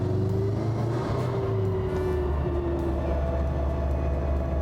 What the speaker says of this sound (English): You can hear that diff, solid bushings in the rear diff.